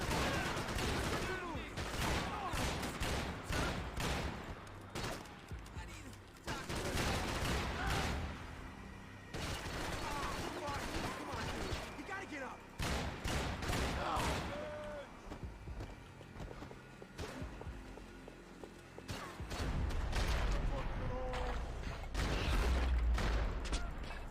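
Bursts of rapid gunfire in the video game Max Payne 3, dense volleys of shots in clustered salvos separated by short lulls, loud and sustained throughout with occasional heavier blasts.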